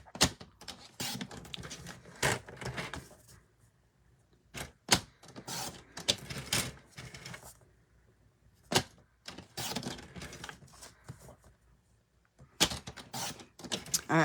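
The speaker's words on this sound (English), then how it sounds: "let's get out our trimmer and we're going to trim 1/4 inch off each side now" A paper trimmer slicing cardstock for a stamped card project, a handful of sharp close clicks and sliding swipes in separate bursts with quiet gaps between them.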